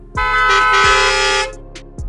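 Car horn sound effect evoking a traffic jam: one loud sustained blare held for over a second between low thuds, then a few short faint toots.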